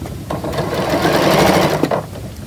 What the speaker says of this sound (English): And then we stitch right to the end of that clamshell.